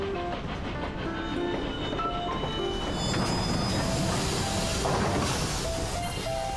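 Train in World of Final Fantasy rumbles along steadily with rhythmic clickety-clack of wheels and occasional tonal squeals, loud and close, continuing without pause under light background music.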